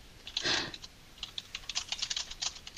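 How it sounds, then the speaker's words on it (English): Close, quiet typing on a computer keyboard: a brief burst of keystrokes, a pause, then a run of quick irregular key taps with no talking. "Hold on. I'm typing"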